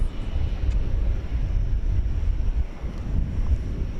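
A 34-year-old Boeing 757 airliner at DFW Airport at night gives off a steady, broad low roar that holds evenly throughout, a distant rumble with a windy edge.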